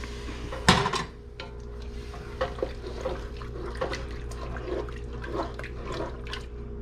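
Chicken stock is poured into a cooking pot of chicken biryani ingredients, giving a sharp splash at first, then a soft, steady liquid trickle with faint clinks under a low background hum.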